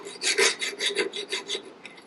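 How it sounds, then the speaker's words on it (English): A hand file rasps rust off a hardened gear from a 1958 XL Sportster motorcycle, giving a quick run of close, gritty back-and-forth strokes, about a dozen in two seconds, with no voices. "I don't think filing is going to really do anything."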